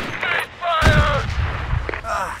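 Gunfire in the tactical shooter Project Reality: a few heavy, muffled shots and booms spread across the moment, mixed with in-game voice chatter.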